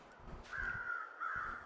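Crows in The Long Dark give two drawn-out harsh caws over a faint low rumble of ambience, fairly quiet and somewhat distant.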